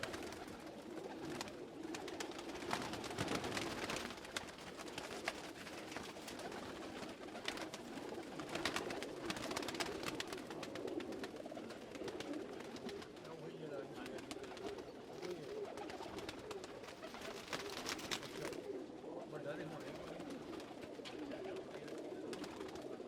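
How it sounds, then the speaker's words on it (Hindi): Pigeons, including Lakha and Galwa breeds, coo steadily at a breeder's lofts in a soft, continuous chorus, with many birds overlapping and faint fluttering and rustling throughout. "गलवे कबूतर जो उनके थे वो भी हैं"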